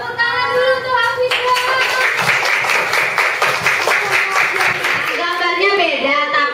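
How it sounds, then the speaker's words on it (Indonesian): A Grade 4 classroom of children clapping together for a classmate named Hafiz, a burst of close, fairly rhythmic hand claps in the middle, bracketed by a teacher's voice speaking before and after. "tepuk tangan dulu tuh Hafiz."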